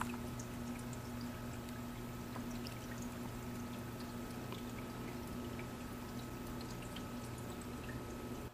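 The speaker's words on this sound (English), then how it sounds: "Be sure you fill your filter with water prior to plugging it in." Water steadily poured into a hang-on-back aquarium filter sitting on the rear of a classroom fish tank, a continuous splashing trickle at close range with a low steady hum beneath, no voices.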